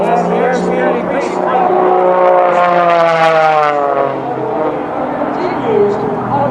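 A propeller aerobatic airplane performs maneuvers, with a loud engine drone whose pitch sweeps up and then falls back as the aircraft snaps and wags its tail through the routine, with a commentator talking over it.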